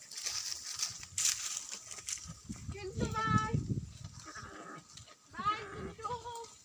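Goats bleat several times in an outdoor village setting in the Uttarakhand hills, with wavering, fairly close calls over light background noise and someone talking nearby.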